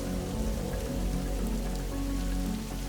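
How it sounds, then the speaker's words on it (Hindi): Steady rain falls on a surface in a dense, continuous patter with no pauses, heard alone without any voices. "बारिश और तेज हो गई"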